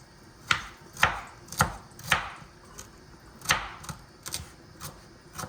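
Carrots being chopped on a cutting board with a knife, about a dozen crisp, evenly spaced strikes close by with no talking.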